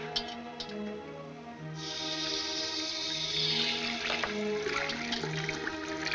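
Water runs from a tap over a hand in a 1940s film noir scene, a steady splashing hiss that starts after a brief quiet moment and continues under soft orchestral music.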